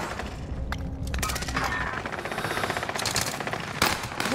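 Video game gunfire rattles in rapid automatic bursts while weapons are switched. The shots come dense and loud, with a sharp louder crack near the end.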